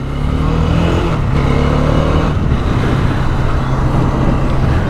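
A Bajaj Dominar 400 motorcycle engine drones loud and close, with a steady low rumble and slight dips in pitch as it runs, and no voices over it.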